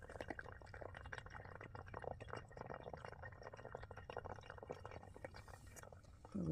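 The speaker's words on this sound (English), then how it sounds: "You can hear the water working its way down." Water from a hose trickles and drips as it drains down through a stacked plastic vertical garden planter in an Arizona backyard, a soft continuous gurgle with faint patters, alone and fairly quiet.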